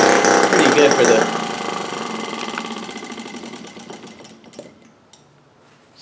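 A mini four-stroke gas steampunk model engine runs with a fast, buzzing, sewing-machine-like chatter, loud and close at first, then slowing and fading as it winds down to near silence.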